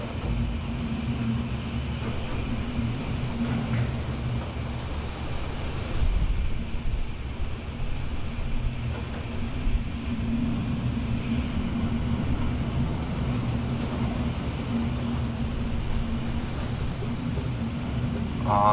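Steady roaring Hurricane Irma wind in Florida muffled through glass, a constant low rumble with gusty swells, sustained and fairly loud with no voices.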